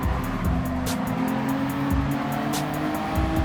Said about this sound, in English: let it coast for a bit and start tapping the throttle to keep up my speed